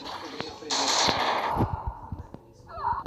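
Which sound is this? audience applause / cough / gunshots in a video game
gunshots in a video game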